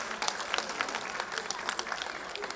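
An audience at a Chaitra month event breaks into applause, a brief, moderately loud burst of many hands clapping at close range with faint voices mixed in.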